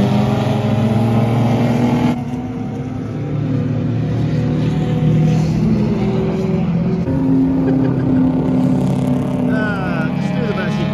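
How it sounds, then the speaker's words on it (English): Race cars, including a Saab and a Ford Focus, run together at a 24 Hours of Lemons endurance race, with steady loud engine drone and shifting pitches throughout and voices talking over it. "Saab and the Focus are battling it out."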